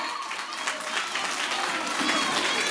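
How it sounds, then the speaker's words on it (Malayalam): Steady, continuous applause and clapping from parents in a crowd cheering a school karate team at a program, dense and fairly loud throughout. "Give a big clap."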